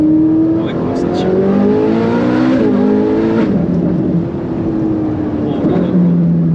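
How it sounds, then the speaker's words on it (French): A Ferrari 458 Italia with its naturally aspirated V8 and IPE exhaust pulls hard under acceleration, the loud engine note climbing through the revs and shifting, with excited talk over it. "Plus l'échappement chauffe, plus c'est une tuerie le truc. Attends. Regarde comment ça tire."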